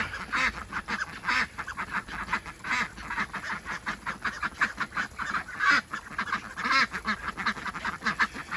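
Pekin and Blue Swedish ducks quack and honk close by in a rapid, busy chorus of overlapping calls that keeps going throughout, with no human voices.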